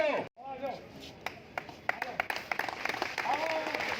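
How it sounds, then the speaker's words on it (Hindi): A crowd applauds at a political gathering, with scattered claps building into steady applause while voices talk and call out over it, and the room sound stays fairly faint. "जोरदार ताली बजाकर जोरदार"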